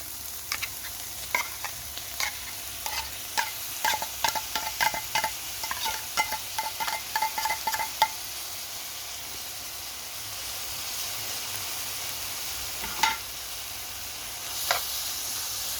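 Tuna being stirred with rice bulgur in a hot frying pan: a soft steady sizzle with a string of quick scraping stirs for several seconds, then the sizzle goes on alone with an occasional clink.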